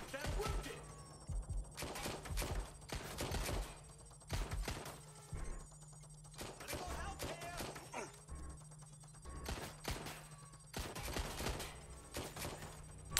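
Bursts of submachine gun fire in the game Watch Dogs Legion, several sharp rapid volleys separated by brief quiet gaps, with a steady low hum beneath.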